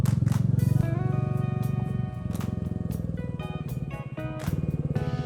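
An off-road motorcycle labors up a rocky mountain trail on Papyeongsan, its engine revving and pulsing unevenly close by as the rpm rises and falls over the stones, with no talk over it.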